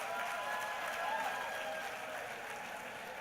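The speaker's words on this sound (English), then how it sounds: "that deserves a hand" An audience applauds at a regional plan launch event, a dense, steady wash of clapping from a large crowd that holds evenly for a few seconds and fades slightly toward the end.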